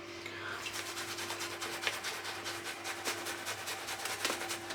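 A synthetic shaving brush working lather against skin, a close, soft, rhythmic scrubbing and rasping with repeated strokes at an even pace, fairly quiet and without speech.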